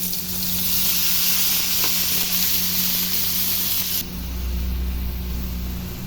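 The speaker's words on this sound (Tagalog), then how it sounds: "Nagisa na nga natin ang hipon." Shrimp sautéing in a pan with caramelized onions, a steady close sizzle running throughout, shifting slightly in tone partway through as the cooking continues, with no talking.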